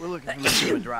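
A character sneezes once in Grand Theft Auto V, a sharp, close burst in the middle of a short line of spoken dialogue.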